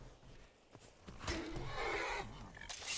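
A horse in the video game Skyrim whinnies loudly and shakily up close, accompanied by faint hoof clopping beneath the call.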